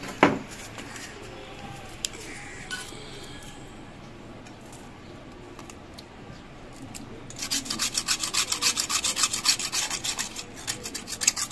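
Scraping hardened packing off a household water pump motor with a hand blade: steady rubbing and rasping strokes, quiet at first, then a louder run of rapid rhythmic scrapes close by toward the end.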